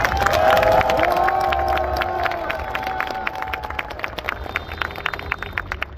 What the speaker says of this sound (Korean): 뜨거운 박수를 바랍니다.